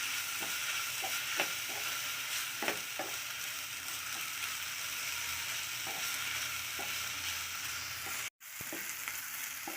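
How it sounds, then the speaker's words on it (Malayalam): A mushroom stir-fry, a Kerala-style mushroom thoran, sizzles quietly in a pan while a spoon stirs it in scattered scraping taps, with a brief dropout near the end and no talking. "ഇവിടെ ഇളക്കി കൊടുക്കുക."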